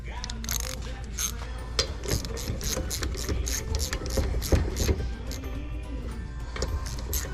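A quarter-inch ratchet clicks in rapid repeated bursts while turning bolts on the raw water pump of a Sherwood E35 on a Crusader marine engine, close up over a constant background hum in a workshop.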